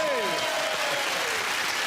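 Studio audience applause at a comedy trivia panel show, a dense, loud burst of clapping that carries evenly across a couple of seconds.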